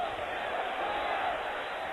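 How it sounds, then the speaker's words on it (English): Loud, steady roar of a wrestling arena crowd cheering and yelling during a brawl outside the ring, a dense wall of noise with no breaks. "the crowd's going bananas as Blassie's putting the boots to him outside the ring"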